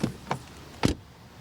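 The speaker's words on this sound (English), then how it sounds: "door closing sound. Pretty solid." Doors on an electric SUV shut in a few short, solid thumps: two lighter knocks close together, then a heavier, firmer slam, close by and without talk.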